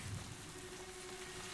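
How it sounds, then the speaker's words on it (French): Rain falls steadily in a video game set in medieval France, a faint, even hiss with a low tone running underneath. "ça y est, il pleut"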